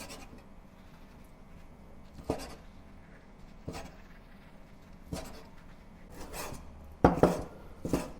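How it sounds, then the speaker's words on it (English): A knife cuts air-fried char siu pork into pieces on a board, with about six sharp, irregular chops separated by pauses, close by and under no talking. "before I cut it into small pieces"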